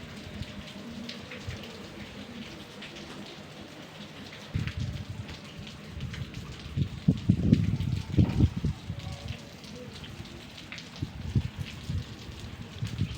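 Rain falls on rooftops and roads in Junagadh, a steady hiss that swells into heavier bursts of drumming and splashing midway, then settles back, with no one speaking.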